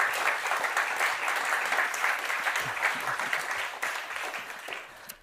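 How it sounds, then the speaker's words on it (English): A conference audience applauds as presenters are welcomed onto a design thinking event stage, a dense, steady clapping from many hands that gradually thins and fades toward the end. "it's time for the applause round"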